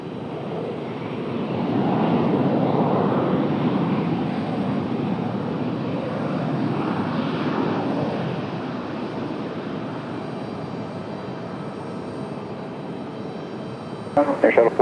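A fixed-wing airliner rumbles and roars steadily at Raleigh Durham International Airport, swelling and then fading as it passes at a distance, with a short clatter near the end.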